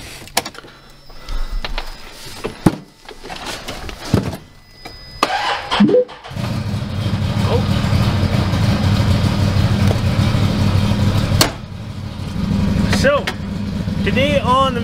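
After some clattering and a door shutting, a 2020 Ford F-350 6.7 Powerstroke diesel pickup with stock exhaust cranks and catches, then settles into a steady, loud idle with a low rumble.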